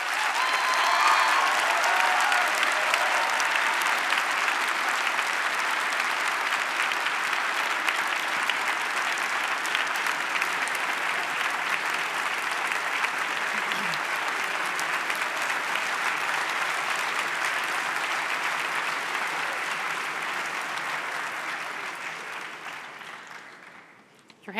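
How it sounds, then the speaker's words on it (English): An audience at an English debate gives a sustained, even round of applause after a speaker's closing plea to vote for the motion, holding steady for over twenty seconds before fading out. "Your hands will get tired if you clap too long for every speaker."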